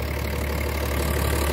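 A BMW X5 M50d, 3-litre with four turbos and 400 hp, idles steadily at close range, a continuous even low hum with no voices over it.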